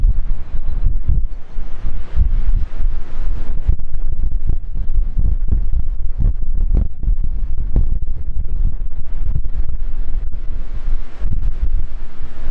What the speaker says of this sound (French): Toujours extrêmement de vent,